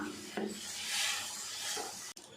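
Cooked toor dal and bottle gourd being stirred into sambar in a pot, a soft continuous scraping and swishing of a spoon, close and fairly quiet.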